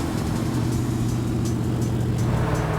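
A Mercury Park Lane engine idles and burbles through a loud, throaty exhaust, giving a deep, steady low rumble with a slight pulsing rhythm, close and alone.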